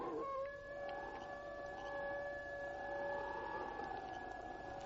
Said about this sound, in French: Le chien des Baskerville.